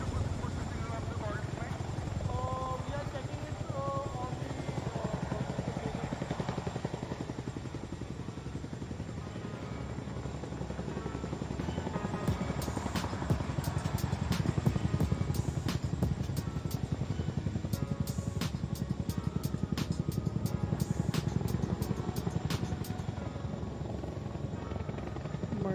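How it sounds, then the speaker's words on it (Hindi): Helicopters of the Indian Air Force perform an air show display in Chandigarh, a steady loud rotor and engine drone throbbing throughout while a commentator talks over it. "दर्शकों, अभी आप देख रहे हैं कि दोनों ही विमान एक साथ बाएं और एक साथ दाएं की ओर आ जा सकते हैं।"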